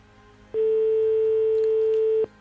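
A single long, steady telephone ringing tone on a call during a live prize draw, under two seconds, clear and alone against a faint background hiss.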